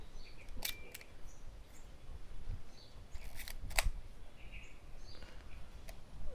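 A Kodak Retina II S film camera shutter fires in a few crisp, sharp mechanical clicks, close and fairly loud against a quiet room background.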